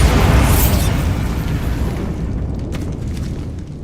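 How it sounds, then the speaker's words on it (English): A Bombarda spell explosion in Hogwarts Legacy lands as a loud, deep boom up front, then the rumble decays steadily over about four seconds with no speech. "Bombarda!"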